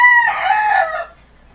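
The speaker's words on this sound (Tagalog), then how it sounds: "Medyo mailap rin to kasi nga puro stag tong mga to eh." A young gamecock stag gives a short, loud crow up close, breaking into clucking before it quickly fades to quiet.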